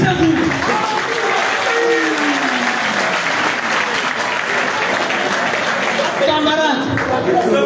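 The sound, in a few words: applause at a teachers' union general assembly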